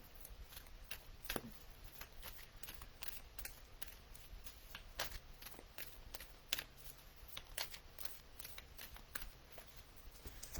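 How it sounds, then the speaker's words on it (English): Cards being shuffled give a quiet, crisp riffling and flicking, with repeated soft snaps spread across a faint background. "as I was shuffling the deck"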